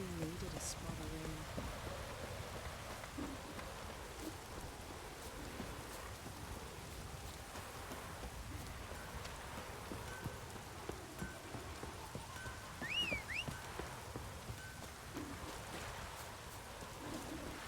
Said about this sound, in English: Maybe we needed a spot of rain.